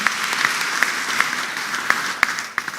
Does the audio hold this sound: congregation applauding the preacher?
yes